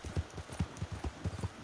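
Horse hooves clip-clop in a quick, even rhythm in the video game Red Dead Online, a fairly faint run of a dozen or so hoofbeats with no voices over them.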